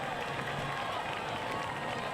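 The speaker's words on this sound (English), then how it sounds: "And listen to this crowd." Stadium crowd roaring at a Milan versus Liberty high school football game on fourth down and goal, a steady dense wash of cheering that fills the whole stretch under a broadcast voice.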